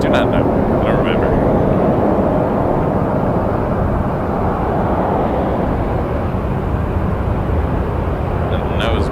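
An Airbus A321 airliner on short final lands on runway 23 at Toronto Pearson, a loud, continuous broadband jet roar holding steady throughout, with faint radio voices briefly audible.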